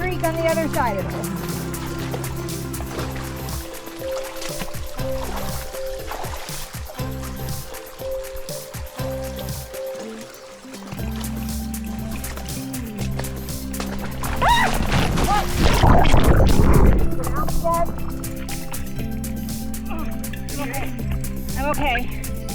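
Creek water runs steadily at a hiking crossing on the North Fork in Glacier National Park, a constant close trickle and slosh that swells louder midway, with a voice faintly present.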